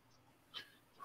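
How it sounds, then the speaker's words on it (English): A pet dog indoors makes one brief, faint whimpering huff midway through an otherwise quiet moment. "no, that's the dog."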